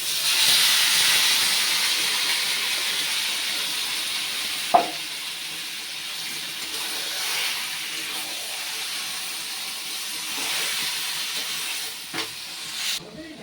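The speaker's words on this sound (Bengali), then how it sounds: "এবার এর মধ্যে দিয়ে দেবো আমি আগে থেকে যে মাংসটা ম্যারিনেট করে রেখেছি সেই চিকেনটা দিয়ে দিচ্ছি।" Marinated chicken hits a pan of fried onions for a papaya chicken curry, giving a steady close sizzle and steamy hiss throughout, with a few brief clinks and scrapes.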